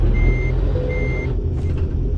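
Steady two-tone reversing beeps from a truck in American Truck Simulator, set in reverse gear, repeating over a low diesel engine drone, with a brief air-brake hiss near the end.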